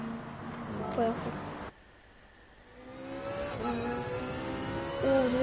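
A video game car engine revs and accelerates with a rising whine, drops out briefly, then builds again into a sustained climbing roar, fairly loud, with no talking.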